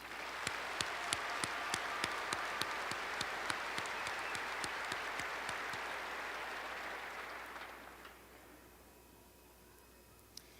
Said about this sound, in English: Join me in applauding these brave students.